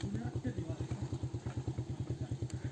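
A motorcycle engine idles or runs close by with a steady, rapid pulsing thump throughout, while a person talks over it.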